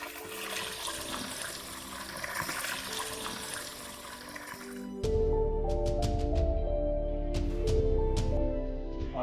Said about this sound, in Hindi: साफ पानी का चश्मा पहाड़ की बुनियाद में से ही निकलता है